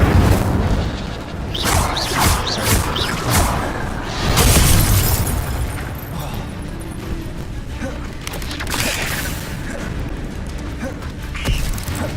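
Incendio fire spells cast repeatedly in Hogwarts Legacy, giving a run of loud booming, crackling bursts with sharp pops and shattering hits over a dense, busy game soundscape.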